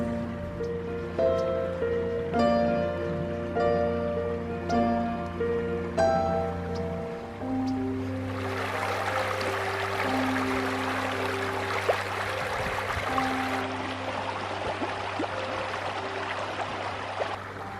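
Salt River water rushes in a steady, close, broadband flow that comes in partway through after a stretch of music and continues without talk to the end.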